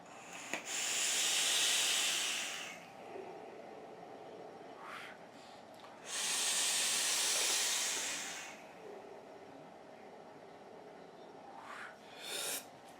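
Two long hissing bursts of vapor from a triple-battery series box mod vaporizer running 12 volts, each lasting a couple of seconds, with quieter clicks and breathy puffs between them.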